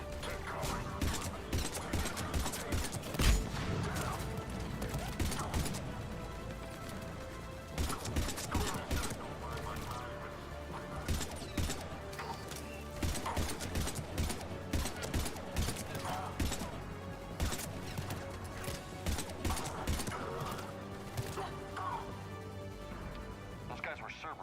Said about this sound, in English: In fact, I'm hearing gunfire.